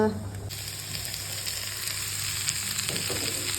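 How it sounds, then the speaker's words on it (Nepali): Fish frying in a pan keeps up a continuous close crackling sizzle with light spattering, steady in level throughout, with no talk over it. "त्यो माछा फ्राई छ"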